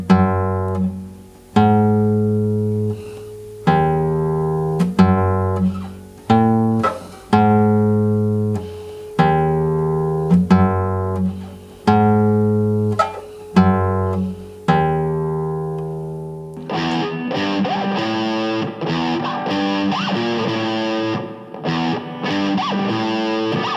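Guitar playing a simple beginner kids' song riff, plucked notes ringing in a steady repeated pattern, then shifting to a strummed rhythm with a distorted, effects-heavy tone near the end; close and clear with no talking.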